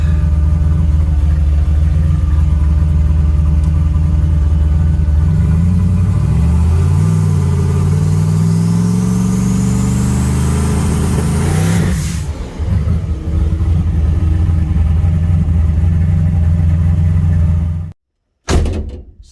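A turbocharged Chevy Nova race car on a two-step launch control test, a loud sustained engine roar close by with rising and falling revs, then a sharp cutoff near the end followed by a brief burst.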